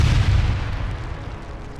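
Stored tank ammunition detonating after a drone strike, a loud deep rumbling boom that rolls and fades over about two seconds.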